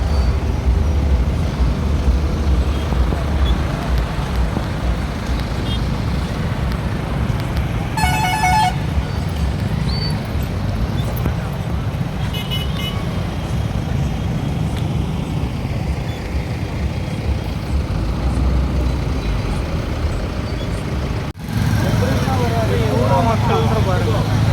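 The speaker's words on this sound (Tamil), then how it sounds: "காலையில் இந்த டிராஃபிக்கில் மாட்டிக்கிட்டு" Heavy morning road traffic on the unfinished Vikravandi–Thanjavur national highway, with a steady roar of cars and buses, repeated loud horn toots and honks cutting through, and voices talking under the din.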